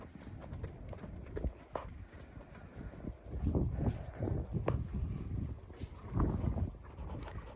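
Vladimir draft horses with feathered legs clip-clop irregularly on hard ground up close, with low rumbling movement and outdoor background noise throughout.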